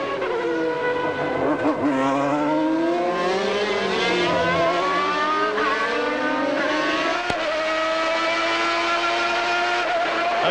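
1991 Formula One car driven by Ayrton Senna during the Australian Grand Prix warm-up, its high-revving engine screaming loudly and close, rising and falling through gear changes as it brakes and accelerates through the corners.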